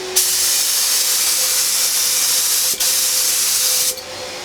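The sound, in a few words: HVLP spray gun spraying finish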